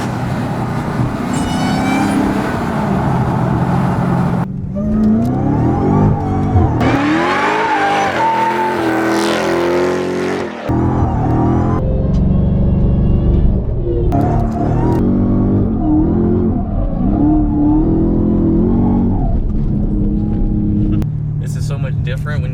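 A 2016 Dodge Charger SRT Hellcat with traction control off roars loudly as it revs and slides, engine pitch rising and falling continuously with tire squeal, heard from inside the car without pause.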